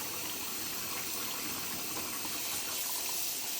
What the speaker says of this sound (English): And I open them and just wash away the seeds.